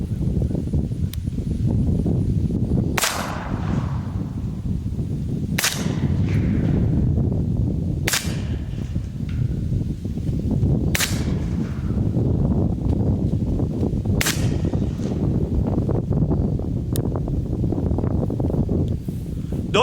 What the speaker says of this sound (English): I have noticed a little bit more of a crack and pop with the Sandman S.